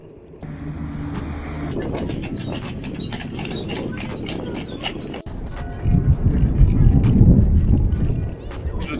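Skateboard wheels roll over rough paving at Mont Saint Michel, a steady gritty rumble that swells louder and closer toward the end, with people talking over it.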